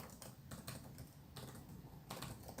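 Fingers type VBA code for Excel on a computer keyboard, producing quick irregular clusters of soft key clicks, close but fairly quiet, with short pauses between bursts and no speech.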